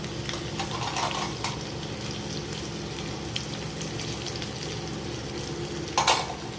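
Cumin seeds and turmeric tempering in hot oil for a radish salad, a soft steady sizzle and crackle running throughout, close by, with a brief louder burst of spitting near the end.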